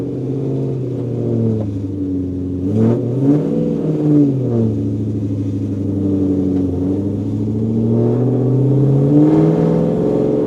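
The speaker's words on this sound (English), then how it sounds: "let's take this mini F1 car sounding V8" A V8 engine swapped into a mini truck and tuned for a high-pitched, Formula 1-like tone revs loudly and up close, its pitch climbing and dropping in smooth sweeps with a steady idle between pulls.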